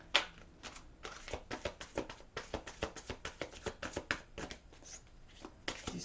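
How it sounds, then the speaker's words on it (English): Tarot cards are shuffled by hand in a steady stream of soft, close riffling taps and slaps for several seconds, with no voices over them. "do some more shuffling here"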